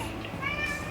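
A house cat meows nearby as board games are shown, giving a short rising, tonal call over a low room murmur.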